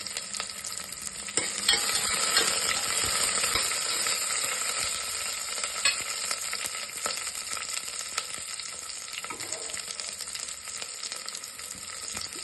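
Onion and garlic sauté over a high flame for one-pot sambar rice, a steady bright sizzle with intermittent scraping stirs running throughout, close and fairly loud with no talking.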